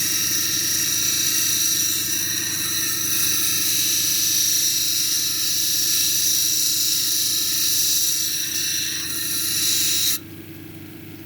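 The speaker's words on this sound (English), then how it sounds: "I'm going to go ahead and grind off this flat spot up on top here" A lapidary grinder grinds a flat spot off a unakite cabochon, giving a steady, loud high whine with a gritty rasp that runs unbroken, then cuts off sharply near the end.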